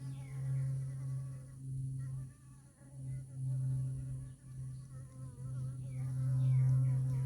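Honey bees buzzing while drinking at a water source, a soft steady hum with wavering pitch as they hover nearby, continuous and quiet throughout.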